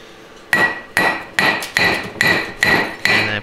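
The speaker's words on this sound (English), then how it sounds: "Now I'm hammering that pin down." A hammer drives a pin into a 4L60E/700R4 automatic transmission valve body during a rebuild, striking seven sharp, evenly spaced metallic blows close up, with no talk.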